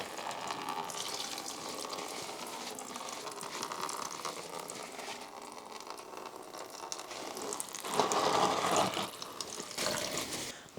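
Fluid drains steadily from a Honda ATC 250R engine during a teardown, a continuous close trickle and splash of liquid that swells louder toward the end, with no talking.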